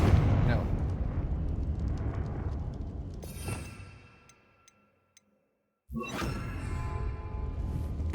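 Confringo fire spell blasts in Hogwarts Legacy: loud, booming bursts with rushing whooshes. One hits early, another mid-way, then a sharp blast after a stretch of near silence, with a voice talking at times.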